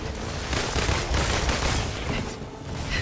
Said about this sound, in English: I thought I could hit him with my freaking guns